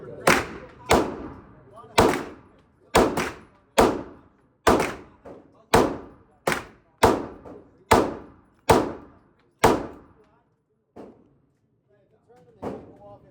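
Gunshots fired one after another at a shooting range, about a dozen sharp, loud reports at a steady pace of roughly one per second, then a few fainter sounds after a pause.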